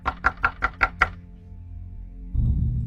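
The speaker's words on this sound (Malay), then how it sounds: "Ketuk-ketuk lagi." Six quick, evenly spaced knocks on a locked toilet door, sharp and close, followed by a pause with low room hum and then a louder rumbling noise near the end.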